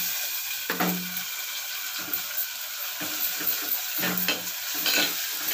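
Prawns sizzle steadily in hot oil in a pan with onions, under a spoon scraping and stirring in irregular strokes about once a second, heard close up.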